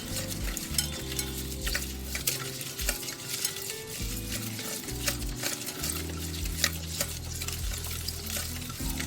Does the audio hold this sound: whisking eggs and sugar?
yes